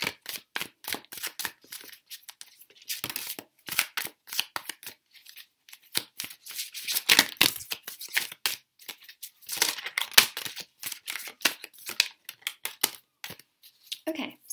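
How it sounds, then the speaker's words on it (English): Tarot cards shuffled and riffled in repeated quick bursts of crisp, papery flicks and snaps, close up, with brief pauses between rounds. "Shuffle these cards, see what's coming through for your career."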